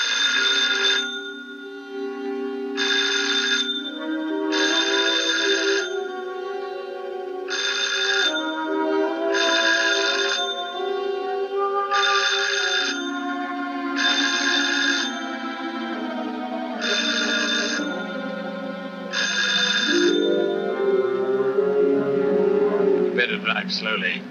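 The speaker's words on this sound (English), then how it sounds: "I can hear it ringing." A telephone bell rings in regular repeated bursts, about nine rings, over a low orchestral film score in a classic mystery crime scene.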